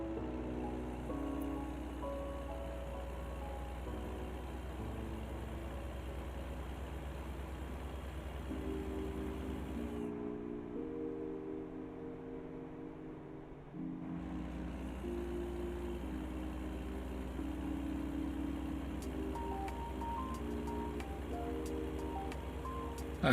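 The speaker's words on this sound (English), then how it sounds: "Rain. Wow. I've seen rain in a while." Rain in American Truck Simulator on a Chihuahua, Mexico map, a steady hiss of falling rain over a low engine drone with tonal hums, briefly cutting out midway before resuming.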